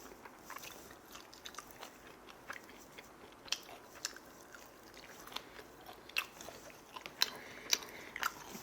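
Whole dried sand lance fish chewed close to the mouth, soft crunches and bites scattered irregularly over quiet background, growing a little louder toward the end, no talking.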